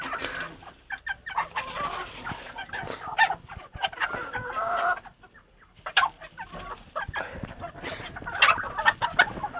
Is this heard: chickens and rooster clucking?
yes